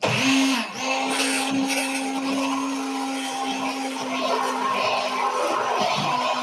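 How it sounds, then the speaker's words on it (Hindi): A hand blender whirs steadily at close range while making mayonnaise, a sustained motor hum with a brief pitch dip at the start and near the end. "मेरे पास हैंड ब्लेंडर है, मैं इसके साथ इसको एक जबरदस्त सी मायोनीज जो है वो तैयार कर लूंगा।"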